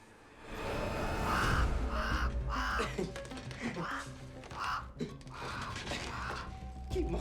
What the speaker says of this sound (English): Keep mocking me, Crow.